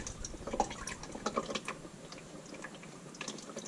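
Warm engine oil drains from a 2014 Ford Explorer, heard as faint irregular dripping and trickling close by, with a few brighter splashes early on.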